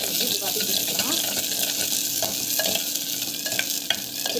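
Turkey berries sautéing in a pan for sundakai vatha kuzhambu, a dense close sizzle with intermittent spatula scrapes and stirring clatter, no one talking.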